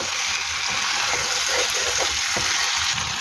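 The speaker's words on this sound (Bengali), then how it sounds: "আমি মাছগুলো দিয়ে একটু কষিয়ে তারপরে ঝোল দিয়ে দেবো" Fish fries and sautés in a pan with potato and eggplant for a chorchori, giving a dense, steady, loud sizzle with soft stirring bubbles throughout and no voices.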